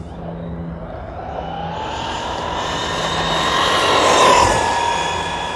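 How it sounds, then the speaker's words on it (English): A radio-controlled truck cruises past, its motor whining and rising in pitch as it grows louder toward the end and then eases off, with no one talking. "Truck is cruising"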